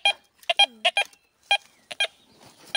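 A metal detector sweeps over a buried target in a field, giving a run of sharp, close electronic beeps in irregular short bursts separated by brief silences.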